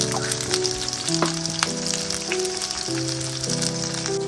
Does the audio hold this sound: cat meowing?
no